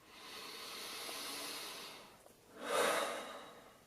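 Two slow, deep breaths drawn close to the listener, a long airy inhale and exhale followed by a brief pause, then a stronger, louder breath, with no talk.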